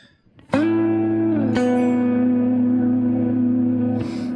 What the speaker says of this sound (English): you want to just have a sound with maybe a bit of delay